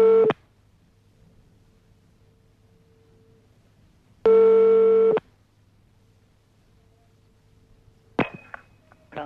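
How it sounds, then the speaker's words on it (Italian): Telephone line tones sound in three separate bursts: a steady tone at the start, a longer one in the middle, and a short one near the end. Quiet pauses separate the bursts. "E allora arriva la telefonata di Girolamo. Savonarola."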